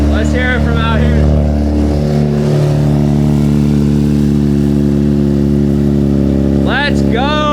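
A supercharged Nissan 370Z Nismo engine runs loud and close with a steady, deep idle drone and a brief rise in revs early on, while people shout and talk over it at the start and end.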